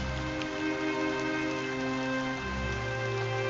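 Heavy rain pours steadily in a village, a dense, unbroken hiss of drops hammering surfaces close by, with no voices over it.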